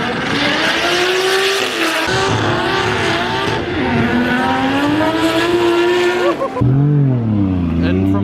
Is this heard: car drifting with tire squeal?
yes